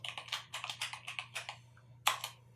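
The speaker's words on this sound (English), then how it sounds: "I'm going to type my list" Keystrokes on a computer keyboard while a list is entered into a spreadsheet name box, about a dozen close, quick clicks in an irregular rhythm, ending in one heavier key press, over a low steady hum.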